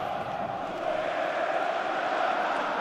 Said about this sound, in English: And the sound of the crowd.